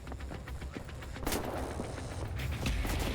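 Gunfire in Wolfenstein: The New Order on PC, with rapid repeated shots and heavy booming blasts forming a dense, continuous barrage, fairly loud and close, with no clear talk over it.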